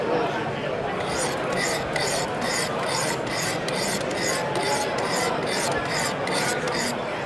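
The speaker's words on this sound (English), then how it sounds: "we just go back to alternating strokes to refine that edge to whatever level we want to take it" Whetstones on a Wicked Edge sharpener make rhythmic alternating rasping strokes against a knife blade, about two per second, loud and close, over a busy trade-show crowd murmur.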